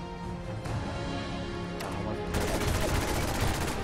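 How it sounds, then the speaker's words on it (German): A burst of rapid, crackling gunfire in the video game Fallout 4 erupts partway through over a busy, noisy background, with sharp repeated reports. "Aha, ein Schuss!"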